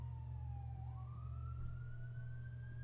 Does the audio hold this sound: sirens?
yes